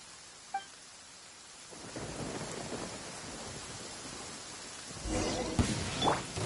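Thunder rumbles and crackles as an electric effect in the Genshin Impact video game, a low rolling roar swelling in after a short quiet gap, then a sharper cracking burst near the end.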